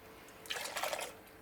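Boiled water is poured into a pot for a homemade laundry liquid, a brief faint splashing trickle lasting under a second against a quiet background.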